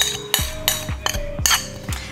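Tofu going into a frying pan in a home kitchen, heard as a series of sharp metallic clinks and knocks of a utensil against the pan, about five distinct hits at an uneven rhythm, close and fairly loud.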